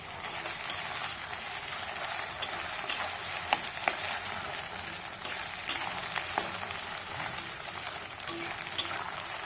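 Mustard greens paste and onion being sautéed and dried out in a pan for a Bengali village-style mustard greens bharta, giving a steady broadband sizzle with occasional soft stirring scrapes, close and continuous with no talk.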